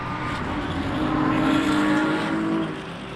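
GT3 race cars, a Lamborghini and a BMW, racing at Sebring in the Le Mans Ultimate video game, with a steady engine drone that swells slightly as a car pulls closer, then eases off.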